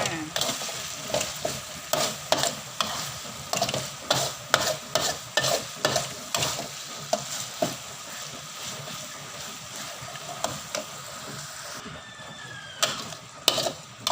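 Pork frying and sizzling in a pan, with a steady hiss underneath and a regular rhythm of scraping, clattering stirring strokes from a utensil, close up.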